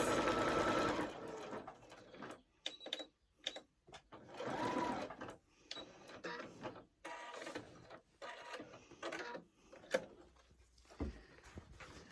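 A sewing machine stitches quilted fabric along marked lines, running in several loud close bursts separated by brief pauses and lighter handling noises, with no talking.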